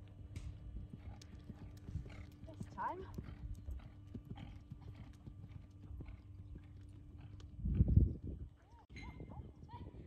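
Horse hooves clip-clop at a steady walking rhythm while people talk nearby, with a louder thump and scuffle near the end.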